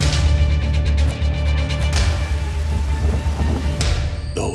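Heavy rain pours steadily in a game trailer while thunder cracks sharply twice, the first near the two-second mark and the second late, with a deep low rumble underneath the downpour.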